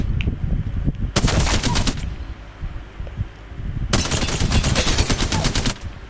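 Apex Legends gunfire: two loud bursts of rapid automatic shots, the first lasting about a second and the second nearly two seconds, over a steady in-game background rumble.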